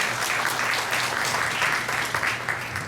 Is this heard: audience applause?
yes